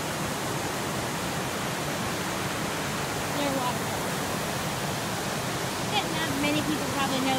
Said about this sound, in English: I am now officially near waterfall.